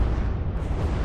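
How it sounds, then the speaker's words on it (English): A large in-game explosion as a warship's front APS gun detonates during a naval battle in From the Depths, a dense, sustained low rumbling blast filling the whole second with no voices. "big explosion there as the front APS gun gets detonated"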